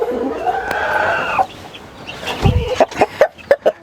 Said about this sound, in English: It is a small place, but we have many chickens inside.